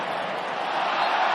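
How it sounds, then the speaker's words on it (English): A football stadium crowd at an FA Cup replay between Tottenham and Southampton applauds appreciatively, a steady distant wash of clapping and crowd murmur lasting about a second. "appreciative applause"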